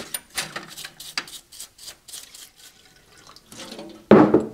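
Tap water running and splashing while chuck parts are rinsed during a rebuild, uneven close splashes and clatter that end in a louder gush of water.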